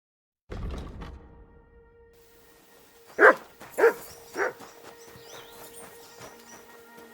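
Mutt the dog in Kingdom Come: Deliverance II gives three sharp barks in quick succession after a soft shuffle, moderately close, with a low steady game ambience underneath.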